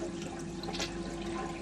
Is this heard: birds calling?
no